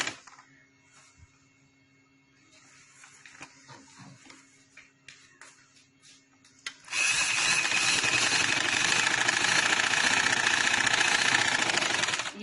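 A sewing machine stitches fabric, starting after some quiet handling noises with a loud, steady, rapid mechanical clatter that runs continuously to the end, close to the listener.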